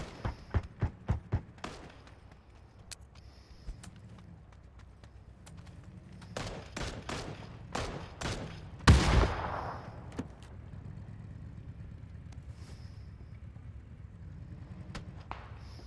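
Gunshots ring out in PUBG, a burst of sharp reports early, another cluster mid-clip and one louder close shot, over a steady low background hum with no talking.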